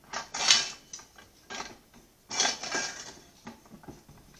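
Metal parts of a grain mill attachment clink, scrape and click together in several short bursts as a cylinder is fitted into the connector, close and fairly quiet with no talking.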